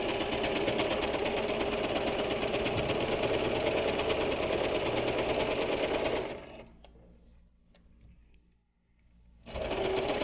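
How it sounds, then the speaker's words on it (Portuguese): A sewing machine stitches fabric for a pencil case in a steady, fast, whirring run for about six seconds, drops to quiet with faint clicks, then starts up again. "agora eu vou ficar na máquina de costura e vou fazer toda a minha parte."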